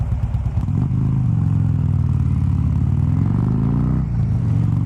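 A 2015 Harley-Davidson Road Glide with the Rushmore 103 High Output V-twin runs loud and close, its lumpy idle rising into revs and falling back again.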